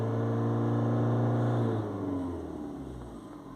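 A Peugeot 5008 with a 1.5 HDi diesel engine and a particle filter fault accelerates hard at full throttle, its engine drone loud and rising before the revs ease and the sound fades slightly.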